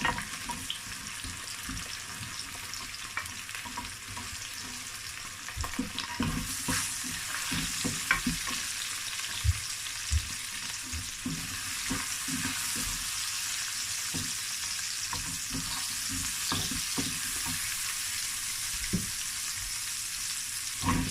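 Mushrooms fry in a hot pan for a vegetable stir fry, a steady broadband sizzle with frequent scraping stirs and clicks of the utensil, close and continuous throughout with no talking.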